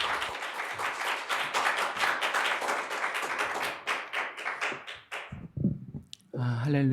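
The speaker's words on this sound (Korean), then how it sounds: "우리 박수로 환영합니다." A church congregation claps in welcome for a visiting pastor at an anniversary worship service, loud dense applause that thins into scattered claps before a voice begins speaking.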